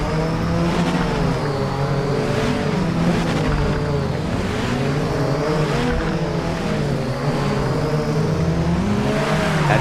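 A race car engine in the Project Motor Racing video game repeatedly revs up and drops through gear changes, a loud, continuous, close-up mechanical whine with no talking.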